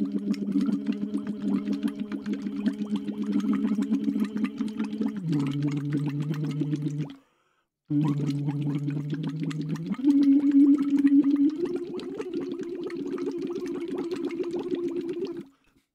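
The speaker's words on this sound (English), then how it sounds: "you just blow into this thing and it like massages the throat and it increases the strength of your throat." Someone blows into a throat-strengthening breathing trainer, producing a buzzing, vibrating tone that shifts pitch in steps. Two long exhalations are split by a brief silent breath, close and alone.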